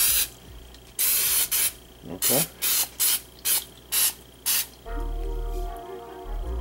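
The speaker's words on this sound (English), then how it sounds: "We're just gonna spray that with some." An olive oil spray can hisses in a quick series of short bursts, about ten sharp sprays close by, followed by kitchen clatter and a brief spoken word.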